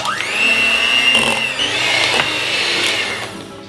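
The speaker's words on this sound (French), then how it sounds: "Le mixeur arrive et on mélange." A kitchen blender whirs steadily while mixing homemade garlic butter, starting with a rising whine and holding a loud, continuous motor drone whose pitch wavers slightly before it winds down.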